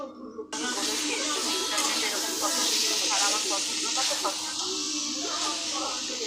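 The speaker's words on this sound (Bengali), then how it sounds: "এখন ডিম সয়াবিন আলু সব একসাথে কষাচ্ছি" Egg, soybean and potato curry sautés in a pan with a loud, continuous hiss and sizzle that starts abruptly and holds steady, while a voice talks quietly beneath it.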